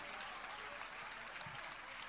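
A gathered community at a temple fundraising event in Ashoknagar claps in brief, faint, distant applause, with a steady wash of scattered hand claps.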